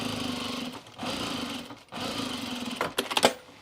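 A sewing machine edge stitches a seam on trousers in close, loud bursts of rapid needle chatter. Short pauses separate the runs, and a quicker, choppier stretch near the end sounds like back stitching.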